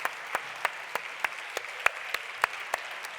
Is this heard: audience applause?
yes